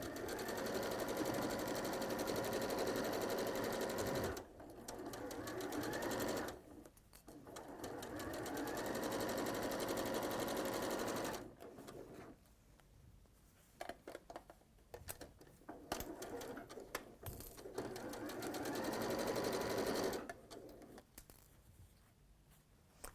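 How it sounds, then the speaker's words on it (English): A sewing machine chain-pieces quilt fabric with a quarter-inch seam, its motor humming in long steady runs broken by short pauses, close and continuous. "So we'll sew those together to begin with."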